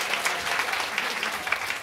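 An audience claps after a waacking dance performance, a brief burst of lively, fairly close applause with scattered sharp individual claps.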